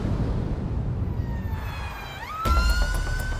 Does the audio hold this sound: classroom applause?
no